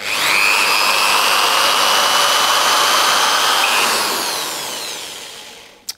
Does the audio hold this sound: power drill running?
yes